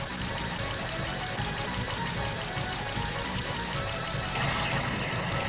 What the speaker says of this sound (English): You can really hear the exhaust note of the cars screaming through the night air